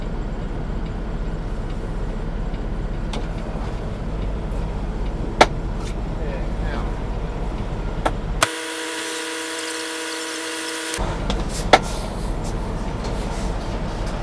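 A shag truck, a yard tractor moving trailers at a Bedford Park, Chicago freezer warehouse, pulls out with a steady diesel engine drone and road rumble. A sharp broadband hiss, likely an air-brake release, cuts in partway through.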